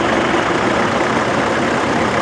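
A Massey Ferguson 3670 tractor with a Perkins diesel engine of about 120 horsepower runs steadily at a tractor show, giving a continuous, even, broadband rumble with no pauses and no talking.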